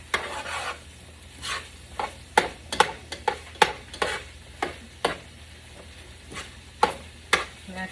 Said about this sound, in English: So we're gonna give this a mix, mixing all that seasoning and all that good flavor.